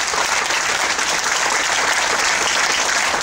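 An audience gives a performer a round of applause at a live music show, a loud, dense, continuous wash of clapping that holds steady throughout.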